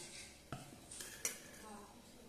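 Chicken shashlik ingredients, with chili powder and soy sauce, mixed together in a bowl, giving a few soft clinks and scrapes of utensil against the bowl over quiet background noise.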